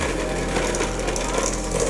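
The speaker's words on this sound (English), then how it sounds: "I'm going to take my electric whisk." An electric whisk creams butter for a lemon drizzle cake with a steady, loud motor whir and rattle that does not let up.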